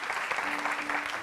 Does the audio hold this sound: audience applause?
yes